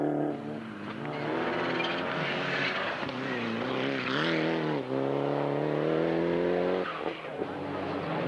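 Rally car driven hard on an asphalt stage at the 1997 SCCA Pro Rally Maine Forest Rally, its engine note loud, sustained and rising and falling through gear changes, with commentary talking over it.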